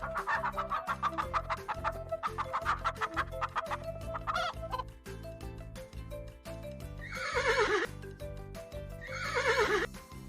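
Horse whinnies ring out twice near the end, loud and close with a falling pitch, set over steady background farm-animal music after earlier hen clucking.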